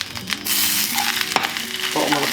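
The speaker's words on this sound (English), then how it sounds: "So let's try breaking this up as it cooks." Vegan mince sizzles loudly and steadily as it fries in a pan. A utensil stirs and breaks it up, adding scraping and clinking over the frying.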